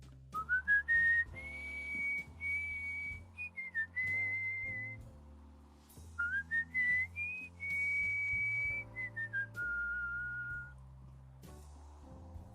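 A person whistles a melody alone, a clear bright tune in two long phrases with sustained held notes and small pitch slides, close and fairly quiet, with a short pause between phrases.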